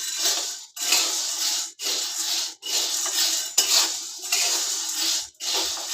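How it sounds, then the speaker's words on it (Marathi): Chickpea flour being stirred and roasted in a pan over medium heat, heard as steady scraping strokes that repeat in rhythm with brief pauses, close and fairly loud with no voices. "सतत असे ढवळत राहायचे."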